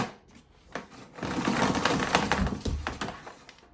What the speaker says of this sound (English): it pulls the cable in pretty fast